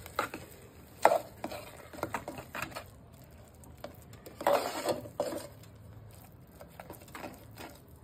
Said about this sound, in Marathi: आणि बारीक गॅसवरती हलवत राहायचं कंटिन्यू